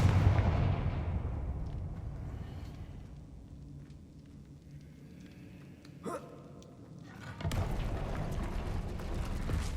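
Confringo fire blast spell cast in Hogwarts Legacy: a brief whooshing crack near the middle of a quiet stretch, followed by a louder rumbling burst that keeps roaring to the end, after a fading noisy opening.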